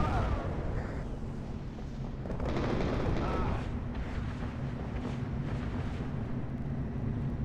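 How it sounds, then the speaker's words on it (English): A UNSC air assault bombing run in the WARNO real-time strategy game with a Halo mod sets off a dense, continuous rumble of explosions and distant gunfire, sustained and fairly loud throughout. "See the bombing run here."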